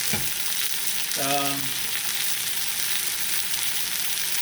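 Chicken breast sears in a cast iron pan, a steady broad sizzle running throughout, close and fairly loud, with a short tonal clank near the start as the meat goes down.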